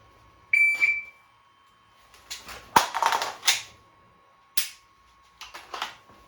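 Pistol dry-fire practice with an empty magazine: a series of sharp mechanical clicks and snaps from the trigger and slide, isolated and close, with short pauses between them and no talk.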